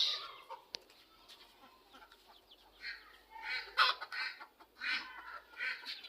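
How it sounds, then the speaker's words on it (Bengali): Native village chickens cluck in a quick, uneven series of calls on a farm, with several birds audible at moderate distance and the clucking rising and falling over a quiet background. "দেশি মুরগি"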